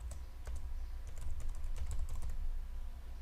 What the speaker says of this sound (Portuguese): E vou digitar bimestre.